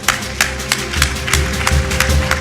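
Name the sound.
audience applause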